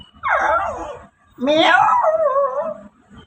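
A comedian's voice imitates a female dog whining, two drawn-out nasal whimpers, the second longer and wavering, close and fairly loud.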